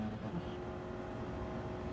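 Inside a Ford Focus Cup race car at Mount Panorama, Bathurst, steady engine drone and broad wind rush fill the cabin while it sits in another car's slipstream on the straight, a continuous loud roar with no pauses.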